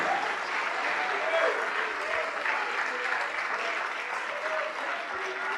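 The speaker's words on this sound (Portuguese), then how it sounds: "Vamos aplaudir mais, igreja, vamos aplaudir mais." A church congregation claps continuously during an evangelical service, a broad steady wash of applause with a faint voice or music tone threaded underneath.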